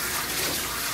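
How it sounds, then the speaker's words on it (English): Water runs steadily from a tap for rinsing lathered hands, a close, full gushing rush with no pauses. "I'm gonna rinse my hands"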